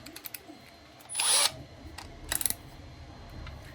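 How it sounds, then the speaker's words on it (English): A power drill whirs in two short, loud bursts, the first about a third of a second long and the second briefer, with quiet between them. "Then you get your drill bit"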